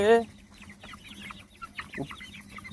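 Chickens following a person home after being fed, giving a few soft nearby clucks and a brief squawk at the start, with low background noise.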